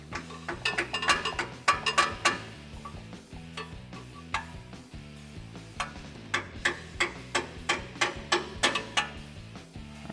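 A jack being lowered under a 2015-2019 Ford F150 during a front leveling kit install gives a run of sharp, close ratcheting clicks at an uneven pace over a steady low mechanical hum, with no talking.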